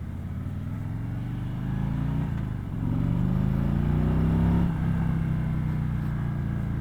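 A 2018 Harley-Davidson Road King motorcycle accelerating on a test ride, its low, throaty V-twin rumble rising in pitch through the gears, with a short dip at each shift as the engine climbs and pulls strongly.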